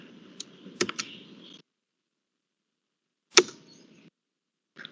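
A few sharp computer mouse clicks in tax and invoice posting software: a quick pair near the start and one isolated click later, close and crisp against near silence.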